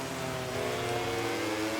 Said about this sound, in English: The speed of the Ducati in a straight line.